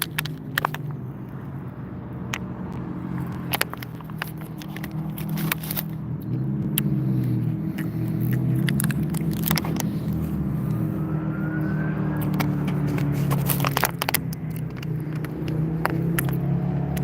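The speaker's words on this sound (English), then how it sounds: "I've been seeing bikes coming out left and right, and also cars, and hearing the vroom vroom." Cars and motorbikes rev and pass nearby near what may be a track, giving a steady engine rumble that swells and fades with several brief sharp clicks over it; no talking.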